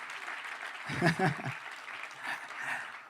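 Applause from a church congregation at an evangelical service, fairly faint and steady over a few seconds, with a brief voice rising near the start.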